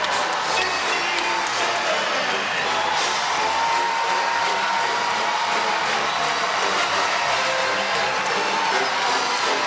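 A large indoor crowd of over 4,300 at a women's college basketball game roars and applauds after Washington's home upset of a top-ranked Stanford team, a dense, sustained wall of cheering with a commentator's voice faintly beneath.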